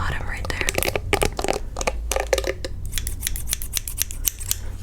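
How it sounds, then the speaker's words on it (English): Close, crisp snips of ordinary scissors cutting hair in an ASMR haircut come in quick irregular bursts, with soft whispering between them. "back to the normal scissors. These are my favorite."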